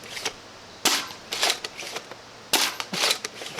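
A Foam Knight XC foam dart blaster fires in sharp, snappy bursts, with several quick shots clustered together followed by pauses, close and loud with no talking.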